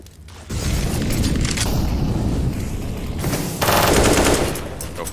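Counter-Strike gunfire from a wall bang shot: loud, rapid automatic bursts that sound close and continuous, with a brief pause before a harsher, louder volley.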